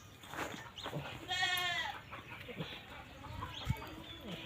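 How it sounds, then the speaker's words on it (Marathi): A domestic goat gives a single short, moderately close bleat against quiet farmyard background noise, with faint clucks around it. "बघा हे आमची शेळी आहे"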